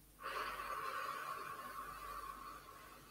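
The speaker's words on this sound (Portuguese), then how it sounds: "E expiramos pela boca. enquanto esvaziamos a barriga." Deep breathing exercise with a long, steady exhale out through the mouth, a close, breathy rush of air that holds for about two and a half seconds before fading, with no talking.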